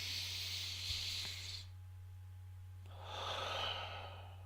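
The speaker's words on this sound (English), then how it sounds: "T, take a deep breath." A slow, deep breath: a soft airy inhale, a short pause, then a long hissing exhale, close and quiet over a steady low hum, with no talk.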